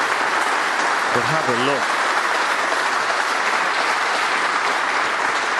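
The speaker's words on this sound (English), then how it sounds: "there's a warm round of applause" Warm audience applause at a British Open snooker match, dense steady clapping filling the arena from start to finish, with a commentator speaking briefly over it.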